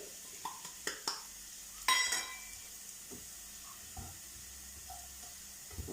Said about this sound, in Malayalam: ഗരം മസാല, കുരുമുളക് പൊടി എന്നിവ ചേർത്ത് നന്നായി ഇളക്കി കൊടുക്കാം